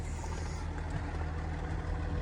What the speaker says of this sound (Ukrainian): Як ми бачимо, зараз двигун в нас працює